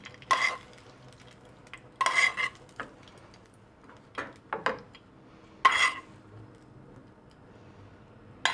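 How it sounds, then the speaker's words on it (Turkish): A metal spoon spreads melted butter over rice pilaf with meatballs in a pot, making several scattered, close clinks and scrapes separated by quiet pauses. "Şöyle kaşıkla güzelce yayın."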